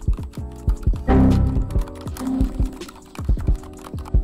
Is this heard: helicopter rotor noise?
no